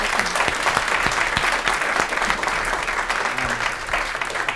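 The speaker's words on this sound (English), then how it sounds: "I'd love to thank these four panelists with a big round of applause" An audience at a theater panel event breaks into sustained applause, a dense, steady clatter of many hands clapping throughout.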